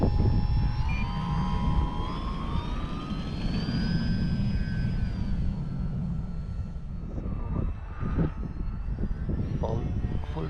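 Model airplane engine run up to full throttle, a steady loud whine with rising pitch and a continuous rushing roar, close, with faint speech toward the end.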